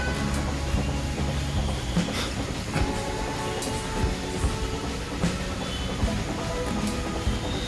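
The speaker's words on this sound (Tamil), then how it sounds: "அந்த குகைக்குள்ளே தான் நம்ம ட்ரெயின் போயிட்டுருக்குது." The Ooty hill toy train rumbles and rattles through a dark tunnel, with steady clattering wheels and periodic clacks echoing around it.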